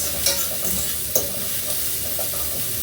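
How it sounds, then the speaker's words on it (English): Food sauteed in a pan with no oil, a steady close sizzle with a couple of sharp scraping clicks from stirring, and no voices. "So first I'm just sauteing it without any oil."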